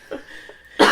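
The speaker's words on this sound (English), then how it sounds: "I'm trying not to cough, but I have to." A single sharp cough bursts out near the end, preceded by a couple of softer throat sounds, close and fairly loud.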